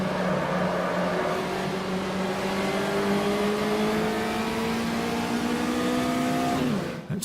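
A Puma GTE, a 1970s Brazilian sports car with a 1.7-litre naturally aspirated engine, races in Automobilista: a loud, steady engine drone climbs in pitch, then cuts off abruptly near the end, with no talk.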